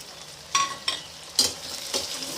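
Tomatoes tossed into a hot pan for a tamarind curry, a steady sizzle broken by four sharp stirring scrapes and clatters at roughly even intervals, close and fairly loud, with no talking.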